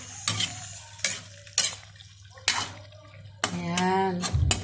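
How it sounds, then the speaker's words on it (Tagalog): Menudo is stirred in a pot with a ladle, giving a few distinct scraping and clanking strokes at uneven intervals, close and fairly faint, with a short voice near the end. "Haluin natin ulit."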